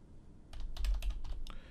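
Fingers type a short search on a computer keyboard, a quick burst of about a dozen crisp, close key clicks in an uneven rhythm.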